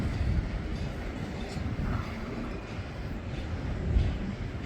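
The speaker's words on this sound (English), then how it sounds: "You can see our stack train." A double-stack freight train rolls along the Canadian National line near a station in Homewood, Illinois, giving a steady low rumble of wheels and cars that holds at an even level throughout, distant and without voices.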